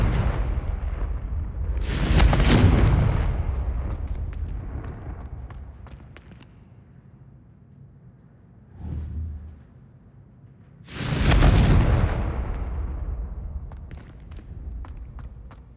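A Confringo fire spell in Hogwarts Legacy on PS5 bursts twice with loud whooshing explosive blasts, separated by quieter footsteps and a smaller thump, no talking.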